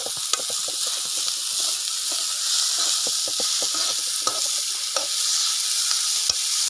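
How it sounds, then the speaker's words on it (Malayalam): Onions and curry leaves frying in a pan with oil, stirred now and then: a continuous loud sizzle and hiss with scattered light spatula scrapes and crackles, close up. "ഇളക്കി കൊടുക്കാം."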